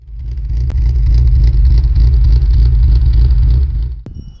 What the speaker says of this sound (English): on the naturally aspirated setup, you also get that awesome sound of VTEC as soon as you step on it